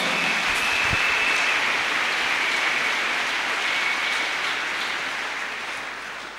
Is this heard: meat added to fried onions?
no